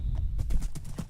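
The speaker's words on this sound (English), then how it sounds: "My horse does not want to go." Horse hooves clip-clop in the Minecraft video game: a quick run of close, hollow hoof knocks over a low rumble, loud and steady throughout.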